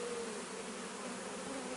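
Honeybees buzz in a steady, dense drone during a hive transfer, heard close and unbroken.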